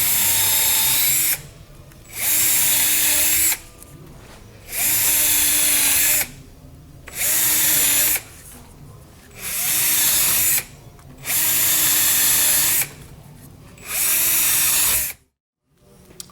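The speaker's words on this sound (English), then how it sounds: "I'm going to drill holes every couple inches, just kind of scatter them around" A power drill bores holes into rotted wood on an old window frame in about seven separate loud bursts of whirring, each a second or two long, with short pauses between them. The last burst stops abruptly into silence.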